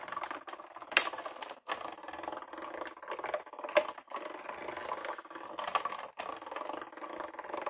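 A die-cutting machine pressing a butterfly-shaped lampshade cutout, with a continuous mechanical clatter and rattle, sharp clicks near the start and again partway through, moderately loud with no talking.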